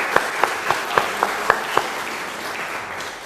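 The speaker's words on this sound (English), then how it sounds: "That's a round of applause." Applause from a small audience after a book reading: about seven sharp, evenly spaced claps ring out close by, then the room settles into a quiet hum with no talk.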